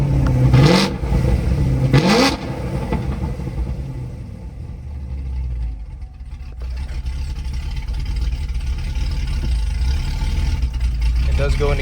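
A C5 Corvette engine revs twice in quick bursts with its exhaust valves opening, then settles into a steady, deep idle rumble that fills the rest of the stretch.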